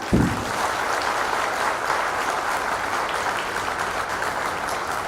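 An audience at a high school function applauds together, a dense, even wash of clapping that starts sharply and holds steady at moderate loudness for several seconds without voices.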